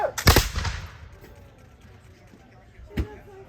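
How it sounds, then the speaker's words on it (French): A musket volley at a historical reenactment crashes out sharply, then trails into a fading rumble, and a second, lighter shot follows about three seconds later. "Oh, le fusil! Apprêtez le fusil!"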